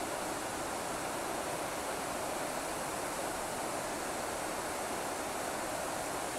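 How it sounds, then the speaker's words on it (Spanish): Water pours from the outflow of the Plandescún reservoir dam in a steady, broad, even rush with no variation and no voices. "Desde aquí podemos ver también la salida de agua en el embalse de Plandescún."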